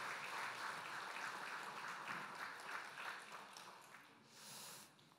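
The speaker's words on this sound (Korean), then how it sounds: "다시 한번 박수로 축하해 주시기 바랍니다" Applause from a church congregation congratulating graduates during a worship service, a steady wash of clapping that fills the clip and softens toward the end.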